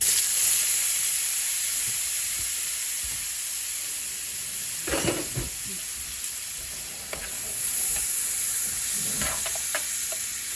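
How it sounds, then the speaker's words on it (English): Shrimp hitting a hot pan, with a steady loud sizzle throughout and a couple of brief bursts of clatter and spatter near the middle and toward the end; no voices. "Throw them in your pan."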